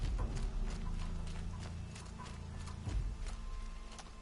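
A horse in Horizon Zero Dawn clip-clops at a steady trot, the hooves close and clear in a quick regular rhythm over soft rain, with no talk.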